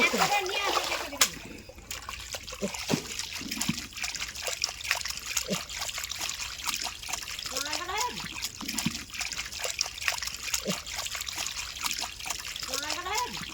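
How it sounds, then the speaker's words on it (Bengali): Small snails being washed by hand in water in a village kitchen, repeated splashing, sloshing and trickling close by while people talk throughout. "এখন আমরা গেঁড়িগুলোকে ভালোভাবে ধুয়ে নেব চলুন ধোয়া যাক"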